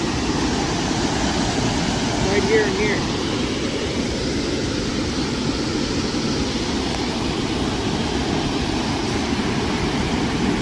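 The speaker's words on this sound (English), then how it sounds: "But there's a water drain." Loud rushing water pours steadily from a drain near a limestone riverside area, a constant dense roar throughout, with a voice speaking briefly over it.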